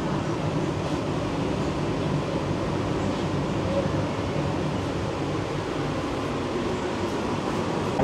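An air-conditioned local train on the Sealdah to Ranaghat line runs with a steady broadband rumble and rail hum, heard from inside as a continuous even drone with no distinct events and no clear talk.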